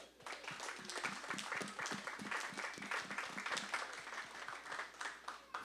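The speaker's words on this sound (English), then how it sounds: "Big round of applause." An audience claps for a science talk night at a craft brewery venue. Crisp individual hand claps blend into lively, steady applause from a modest crowd, close and unbroken throughout.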